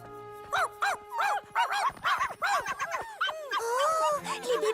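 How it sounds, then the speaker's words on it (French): Puppies in a French Polly Pocket cartoon yip, bark and whimper in quick rising cries, close and busy, with music underneath. "Les bébés chiens!"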